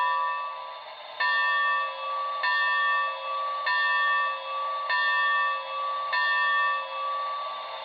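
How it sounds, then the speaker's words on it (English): A model 2-10-2 steam locomotive's sound-system bell clangs at a steady pace, about once a second, with each bright metallic ring hanging briefly before the next. "we're going to go ahead and listen to the bell now"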